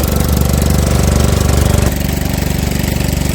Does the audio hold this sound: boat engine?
yes